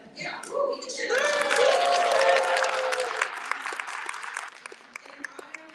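An audience at a Bangladesh Independence Day celebration at New York City Council breaks into loud applause and cheering that swells, holds and then thins out to scattered claps, with voices mixed in.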